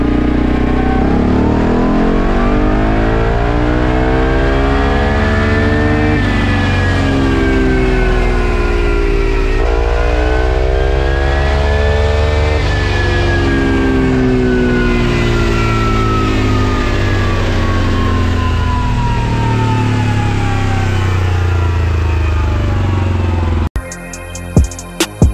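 Kawasaki KLX230 motorcycle engine with a remapped ECU, revving hard and loud for about twenty-four seconds as the pitch climbs and falls in long sweeps, then cutting off abruptly.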